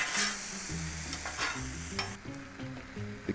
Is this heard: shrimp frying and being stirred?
yes